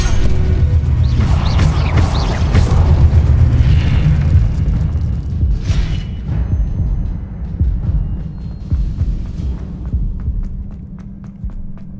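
Spells such as Incendio and Expelliarmus cast in a magic video game: loud, booming, rumbling blasts and whooshing surges layered with a constant low throb, continuing for several seconds before easing slightly.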